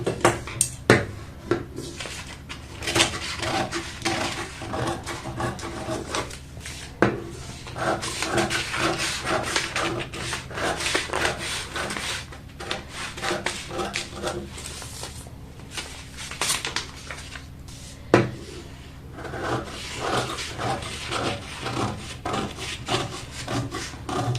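Scissors cut through blouse fabric close up, making continuous rasping, snipping strokes with occasional sharp clicks and uneven pauses.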